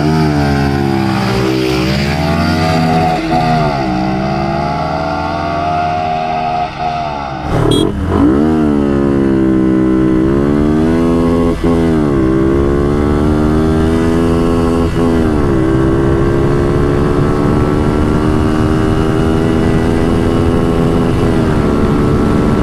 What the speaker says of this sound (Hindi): तो फ्रेंड्स अभी मैं चला रहा हूँ V2 और तारीफ चला रहा है V3